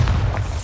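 A Bombarda blasting spell explodes in Hogwarts Legacy, a deep, loud boom with a heavy low rumble that carries through the whole brief moment, with no talk over it.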